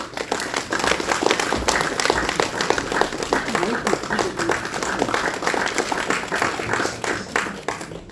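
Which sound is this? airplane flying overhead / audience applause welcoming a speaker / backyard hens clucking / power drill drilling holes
audience applause welcoming a speaker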